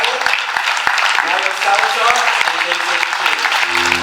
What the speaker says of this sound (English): give a rousing round of applause for all of our award winners